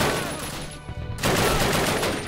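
Dense bursts of gunfire from Call of Duty crackle loudly in rapid succession, with a brief lull before another heavy volley erupts close by.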